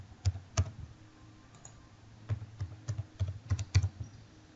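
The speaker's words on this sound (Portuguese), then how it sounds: "A senha, eu vou digitar a senha aqui." Someone types a password on a computer keyboard, producing a few clustered key clicks, then a pause, then a quicker run of taps, close and fairly quiet.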